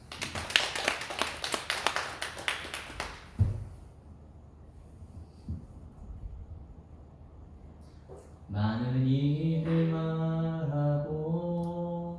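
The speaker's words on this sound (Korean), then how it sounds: "박수 한번 치겠습니다." A congregation claps at an early-morning special prayer service in a Korean church, a burst of sharp claps lasting about three seconds, then a quiet gap, then singing voices entering with sustained tones.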